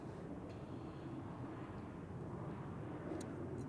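A Swiss Airbus A321 departing runway 16 at Zurich Airport, heard as a steady, distant broadband jet roar, fairly faint and unbroken, with no talk over it.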